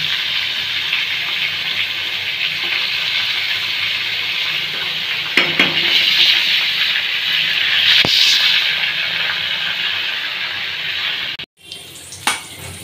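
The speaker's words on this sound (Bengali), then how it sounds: "এই পটলটাও ভাজা হয়ে গেল।" Pieces of pointed gourd (potol) fry in hot oil, giving a loud, continuous sizzle close up. The hiss carries on steadily, then cuts out abruptly near the end before a brief clatter.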